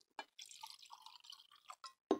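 Sugar solution poured from a container into a glass: a quiet, broken trickle of splashy pours with brief pauses, ending in a sharper splash, close by and alone.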